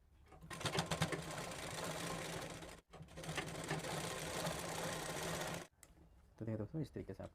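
A sewing machine stitches a folded blouse hem in fast, steady bursts, with two short pauses and a final stretch of quick separate needle strokes, fairly close and clear with no talk.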